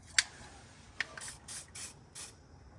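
Lubricant sprayed from an aerosol can onto the exhaust pipe of a Lexus IS350 in short hissing bursts, one sharp puff followed by several quick close spritzes with small clicks of the nozzle.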